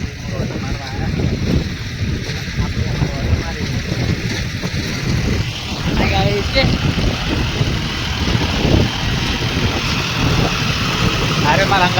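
A tractor pulling a rotavator runs close by with a steady, throbbing diesel rumble and some mechanical clatter, while voices talk over it intermittently.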